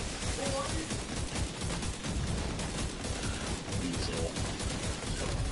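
Dense, continuous gunfire crackles throughout a firefight in The Division 2, a busy layered barrage of shots with game noise and voice chat over it.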